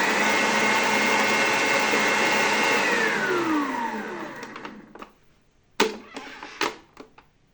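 Electric mixer whirring steadily as it beats red velvet cake batter with a yogurt and lemon mixture, a loud continuous drone that winds down after a few seconds, followed by several sharp clinks and taps.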